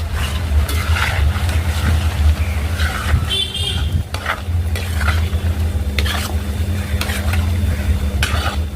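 Chicken pieces for chicken pickle fry in oil with a continuous crackling sizzle and a low steady rumble, with occasional stirring clatter.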